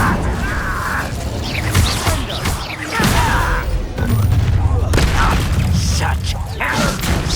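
A fire spell cast in Hogwarts Legacy combat: a whooshing burst with booming impacts and crashing effects, loud, with voices speaking over the action.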